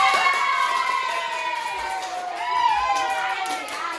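A classroom group cheers loudly together after a competition result, with excited voices shouting and whooping continuously; clapping is hard to make out under the cheering.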